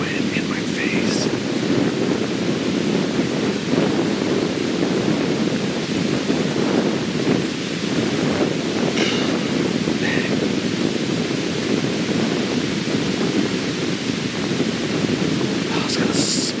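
Steady wind of about 15 miles an hour buffets the microphone outdoors during a morning deer hunt, a loud continuous rumbling roar with faint bird chirps poking through now and then.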